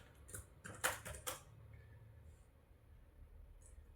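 Several quick clicks of computer keys being typed at close range, clustered in a short burst in the first second and a half, then near silence with faint background.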